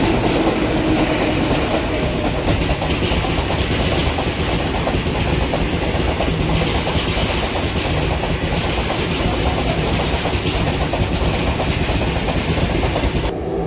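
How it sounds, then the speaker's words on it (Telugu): A goods train hauled by twin locomotives rolls past at Miryalaguda station, a loud, steady rumble with continuous clickety-clack of wagon wheels over rail joints lasting throughout. "ట్విన్ లోకోమోటివ్స్తో గూడ్స్ రైలు కూడా వెళ్ళిపోతుంది"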